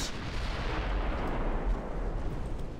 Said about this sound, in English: Another enemy ship neutralized by the firepower of the Maine.